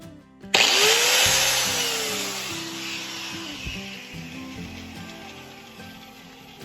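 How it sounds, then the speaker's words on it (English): An electric grinder, wired into a newly built outdoor kitchen, starts abruptly and runs loud and close with a high whine that spins up, then slowly settles and fades as it keeps running alone for several seconds. "Let's give it a little test to see if my grinder is going to work."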